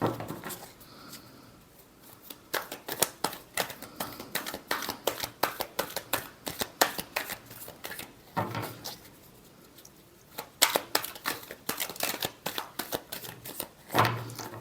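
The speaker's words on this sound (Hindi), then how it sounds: "last shuffle" Tarot cards are shuffled close by in quick bursts of crisp riffling and flicking, pausing briefly between runs, with no talking.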